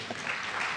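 Audience clapping at an international mayors' forum, a steady broadband patter of many hands filling the short moment without speech.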